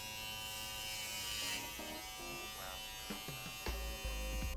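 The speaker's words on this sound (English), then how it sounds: "I can't hold this while I shave my head." Electric clippers buzz steadily up close while shaving a head, a continuous loud hum with small shifts in tone as the blade moves across the scalp.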